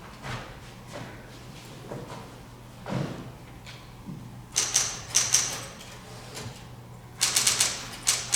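A typewriter clacks on a theatre stage during a school one-act play, first a few scattered keystrokes, then two quick bursts of rapid typing with bell-like chimes, moderately close.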